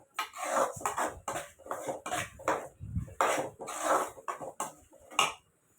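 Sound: ladle stirring tomatoes frying in oil

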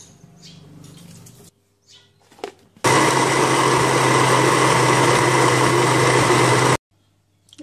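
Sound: blender blending chili with water

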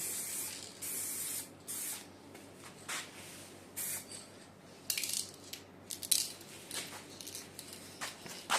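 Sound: spraying paint from aerosol spray cans

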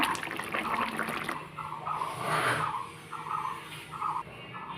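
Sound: pouring the fish curry out of the pan

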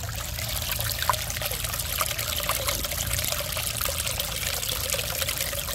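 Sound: small Zen fountain trickling water

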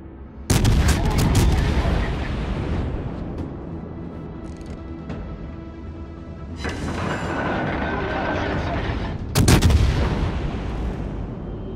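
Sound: artillery fire on a target, from a video game

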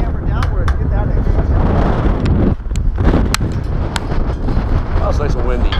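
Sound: wind blowing

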